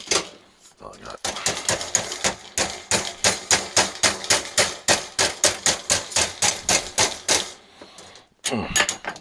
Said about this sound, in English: Here's a small hammer. Small hammer.